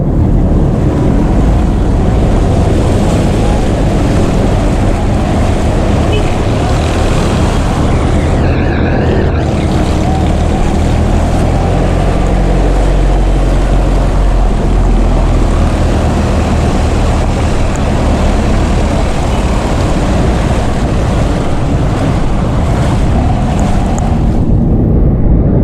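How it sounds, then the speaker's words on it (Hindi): Loud, continuous rushing floodwater churns steadily through a street at KDA Chowrangi after heavy rain, with heavy wind buffeting the microphone and no clear voices. "पहाड़ी इलाके से जरा पानी आ रहा है।"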